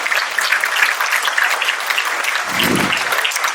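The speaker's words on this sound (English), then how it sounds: "Please, can we give her a round of applause" Audience applause at a gala dinner and awards evening, sustained steady clapping from a room full of guests throughout, loud and continuous with no speech over it.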